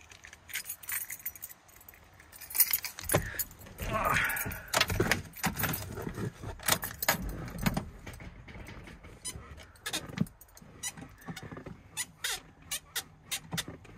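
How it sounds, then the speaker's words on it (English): A bunch of keys jangles and rattles in short bursts inside a 2500HD pickup truck cab, fairly close and quiet, with a few scattered clinks and handling noises between. "Where are my keys?"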